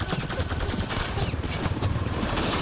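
Gunfire from shooting in the Mass Effect Andromeda video game, a dense, steady stretch of rapid shots and impacts filling the whole moment at close range, with no pause between bursts.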